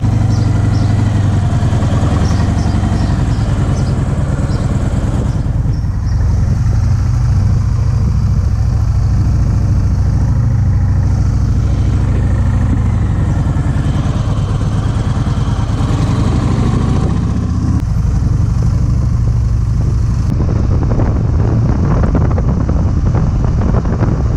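A motorcycle riding off and droning steadily under heavy wind buffeting the microphone, a loud continuous low rumble that shifts slightly in pitch as it travels.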